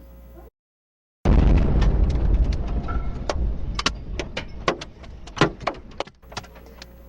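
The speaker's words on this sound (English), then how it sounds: "That noise you hear at the end is debris hitting nearby cars" A blast from a Russian strike in Kyiv cuts in after a brief dropout, followed by a dense roar with scattered sharp cracks and clatters of debris striking nearby cars, loud and close with no voices.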